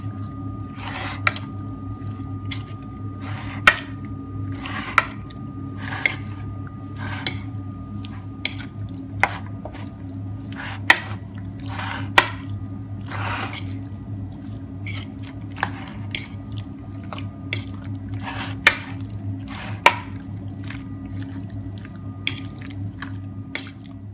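Chicken being mixed by hand with cornflour and spices in a bowl for Chicken Manchurian: steady wet squishing and sticky dabbing, close up, with a low hum underneath and no speech.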